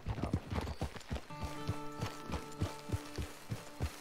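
Horse hooves clip-clop at a steady walking rhythm in the Red Dead Online video game, close and fairly loud, with a soft whinny-like tone partway through and no talking.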